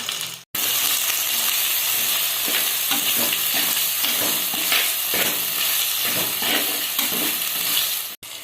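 Tomatoes, green chillies, coriander, mint and curry leaves sauté in a pan for a pepper chicken masala. A loud, continuous sizzle runs throughout, broken by repeated scraping stirs of a spoon against the pan.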